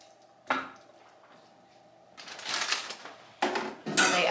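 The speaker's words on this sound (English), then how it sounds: "So I'm gonna take these pieces and put them in my roasting pan as well." Raw turkey pieces set into a metal roasting pan, giving a few clanks and clatters with soft handling noises between them, close and moderately loud.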